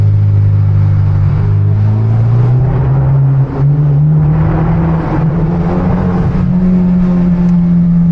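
A modified, boosted 2.0 turbo car with a full ISR exhaust pulls hard in second gear through a tunnel, its loud, close exhaust note climbing steadily and droning without a break the whole time.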